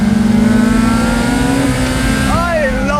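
A Lotus Elise four-cylinder engine revs hard toward 8,000 RPM, a loud close whine that climbs and holds, then shifts pitch as the car keeps pulling, with a voice briefly audible over it.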